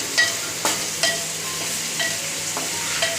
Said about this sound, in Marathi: त्यात 6 ते 7 कढीपत्त्याची पानं टाकून घेऊया।